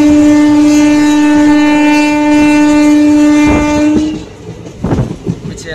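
Auroville Express train running from Pondicherry to Chennai Egmore, a loud sustained horn blast over steady rumbling wheels that cuts off, leaving clattering rail noise and a few knocks.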